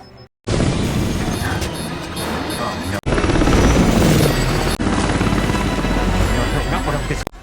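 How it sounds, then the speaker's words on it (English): A loud, dense roar of helicopter rotors and engines throbbing throughout a helicopter collision scene in Mission: Impossible – Fallout, with abrupt cuts between sections and speech mixed in underneath. "helicopters then collide and begin to tumble down a mountain"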